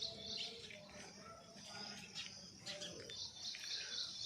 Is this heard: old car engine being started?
no